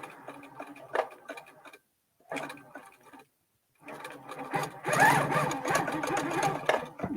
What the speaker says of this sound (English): just start stitching again